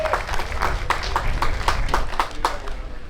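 Scattered applause at a J24 US National Championships sailing awards ceremony, a modest crowd clapping steadily with sharp individual claps over a busy room noise background.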